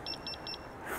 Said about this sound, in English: Except for the beeping.